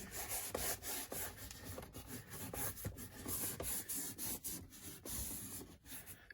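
A scrub pad is rubbed briskly across a car's interior surfaces, producing rhythmic close scratchy strokes repeating throughout.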